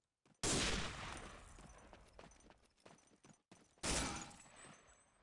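Rapid bursts of gunfire in a competitive shooter match, two loud sharp volleys with scattered shots and clatter between them.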